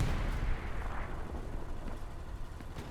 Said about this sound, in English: It's a P4 shooting at him.